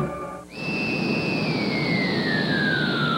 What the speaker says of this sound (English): Its powerful 16-valve, 135-horsepower engine propels you to the limit